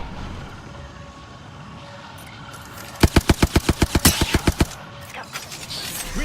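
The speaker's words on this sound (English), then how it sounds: "Whoa! Getting shot at." Rapid bursts of automatic gunfire in a Holistic Hunt shooter match, about a dozen sharp evenly spaced shots in a quick run, loud and close against quieter ambient game background.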